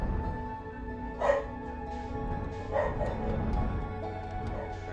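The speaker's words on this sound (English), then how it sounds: "Sorry about the dogs, they're very excited right now." Excited dogs barking and yipping indoors, a few short barks and whimpers spread across the clip against a constant background hum.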